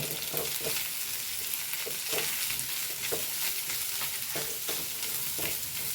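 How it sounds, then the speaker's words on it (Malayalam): Grated coconut fries and sizzles steadily in a pan, with repeated scraping strokes of a stirring spoon at a regular rhythm, close and fairly quiet, no voices. "ഈ നാളികേരം ഇട്ട് കൊടുക്കണ്ടേ ഒന്ന് ഇളക്കി കൊടുക്കാം"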